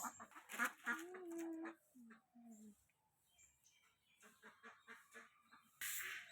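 Ducks quack in a yard in the morning as they are let out of their pen, a few close calls heard alongside people talking.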